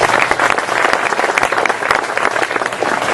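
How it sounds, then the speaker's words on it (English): Alumni, friends and family gathered for a morning chapter house dedication give loud, sustained applause, a dense wash of many hands clapping without pause. "And you too should give yourself a round of applause."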